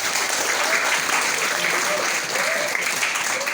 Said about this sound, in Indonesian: Tepuk tangan untuk kampus kita tercinta.